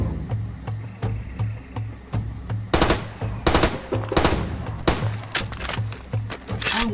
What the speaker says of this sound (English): they're really shooting at me